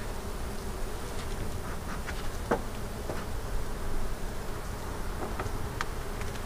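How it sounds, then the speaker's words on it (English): Honey bees in a nuc hive with nurse bees, a close, continuous buzzing drone with individual bees whining past, no talking. "Most of these should be nurse bees"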